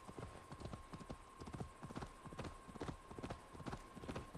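Horse galloping in the video game Assassin's Creed Valhalla, a rapid steady clip-clop of hooves, loud and continuous throughout, with a faint tone held underneath.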